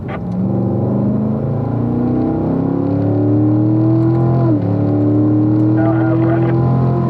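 Corvette Grand Sport engine at a driving school, a steady loud drone rising in pitch under throttle, heard from inside the car with no pause.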